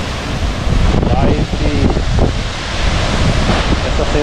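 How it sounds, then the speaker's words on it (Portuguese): The Salto de Corumbá waterfall in Goiás, Brazil, a loud continuous roaring rush of falling water mixed with wind buffeting the microphone, with faint voices briefly underneath. "é ela mesmo, é a cachoeira mesmo"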